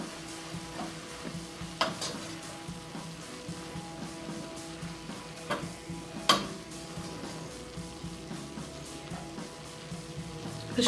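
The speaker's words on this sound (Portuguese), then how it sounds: "Deixa eu dar mais uma fritadinha aí" Sauce sizzles and fries in a pan, a steady close crackle broken by a few sharp clinks and scrapes of a utensil against the pan.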